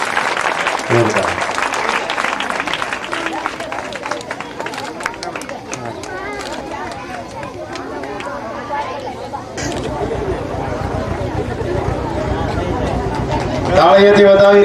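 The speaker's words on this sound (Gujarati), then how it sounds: "ફરીથી એક વખત ફૂવા માટે જોરથી તાળી." Crowd applause and cheering at a Bhagavat Saptah religious gathering in a village, loud continuous clapping mixed with chatter and voices, with a brief burst of music near the end.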